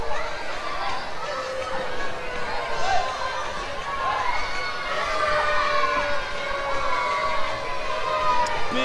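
Wrestling arena crowd at a Lucha Xtreme triple threat match murmurs, jeers and calls out in a loose, continuous roar while a commentator talks over it.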